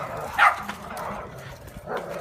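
Dogs give a few short barks and yips outdoors in a residential yard, a sharp close bark near the start and softer ones later, with faint background noise and no talk.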